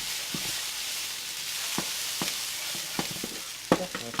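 Chicken fried rice sizzles steadily in a very hot pan while a utensil scrapes and taps to break up and stir the rice, with sharper clacks near the end and no talking.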